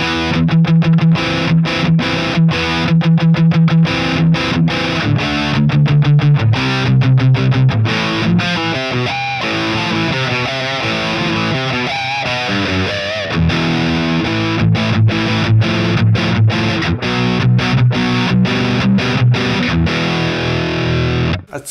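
Electric guitar played through the crunch channel of a Marshall amp impulse, loud and distorted, with chugging rhythmic riffs, sustained chords and quick muted strums running continuously for the whole stretch, no voices.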